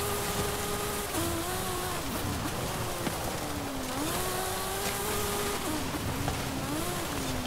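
2020 Sierra Cars #23 Yokohama Alpha driving hard offroad in Forza Horizon, its engine droning loud and steady, pitch climbing and dipping as it shifts through gears at high speed over rough wind and road noise.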